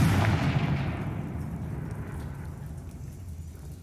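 A Confringo fire-blast spell is cast in Hogwarts Legacy. A loud, rushing burst opens the sound and then trails off in a long, rumbling, hissing decay.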